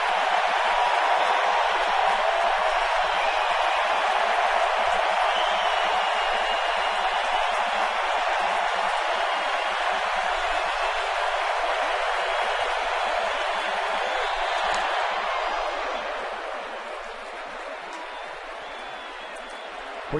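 A packed baseball stadium crowd at ALCS Game 6 in October 2010 roars and applauds in a steady, dense wash of cheering that eases off near the end.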